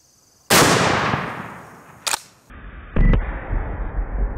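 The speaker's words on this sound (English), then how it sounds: "The concussion on these shotgun blanks is insane. Way louder than any shotgun load I've ever shot." A shotgun blank fires once at a pineapple about 10 yards away, a single sharp, very loud outdoor blast with a long decaying boom, followed by a shorter crack and rumble.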